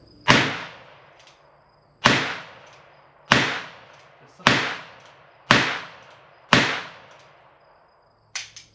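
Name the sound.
gunshots from a single action .22 revolver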